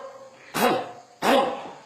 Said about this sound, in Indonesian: Dehem dengan perut